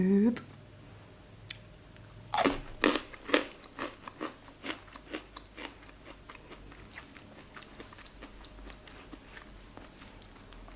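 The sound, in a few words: biting and chewing a crunchy vegan chocolate bar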